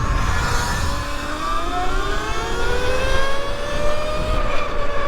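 An electric Sur-Ron dirt bike motor on a 72-volt system with a 64-tooth sprocket whines steadily at high pitch, its tone rising and then leveling off as it tops out, under rushing wind noise with no talking.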